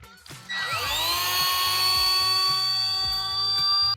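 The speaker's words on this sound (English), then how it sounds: "Can't find my side cutters, but I can find my Dremel. Let's cut it." Dremel rotary tool spinning up and whining steadily at high pitch while cutting metal for a Princess Auto mini bike build, loud and close, running alone for about three and a half seconds.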